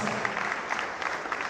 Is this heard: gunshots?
no